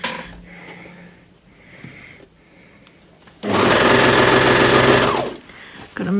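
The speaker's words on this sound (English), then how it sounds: "One thing I like about overlockers is that they're fast." An overlocker stitches fabric in a fast, loud mechanical whir that bursts in for about two seconds and then stops. Quieter handling noises of the cloth come before it.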